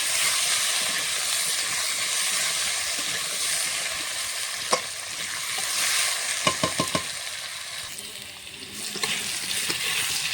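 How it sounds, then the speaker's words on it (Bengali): Potato pieces fry lightly in a pan with a steady hiss, broken by a few sharp clicks and scrapes of stirring near the end. "আগে আলুটা হালকা করে ভেজে নেব"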